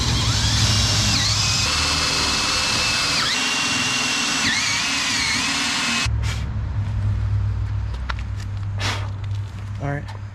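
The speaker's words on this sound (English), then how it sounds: "Let me just drill this other hole first." A power drill runs in a loud, steady whine with brief pitch dips, drilling through the bottom of a boat hull, then cuts off, leaving scattered knocks and handling noise.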